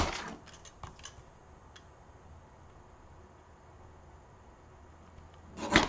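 Scissors snipping through paper card stock during a stamping craft project, a few quiet sharp cuts near the start and a louder crunch at the end, otherwise near-silent.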